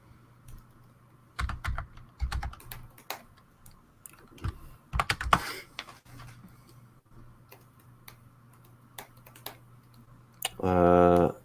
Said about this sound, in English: I can type that out too